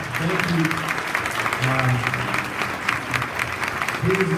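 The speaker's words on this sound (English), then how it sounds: "Students, before you exit, I give us one more round of applause." At a board of education meeting, an audience applauds students with steady, dense clapping throughout, while a voice speaks over the applause.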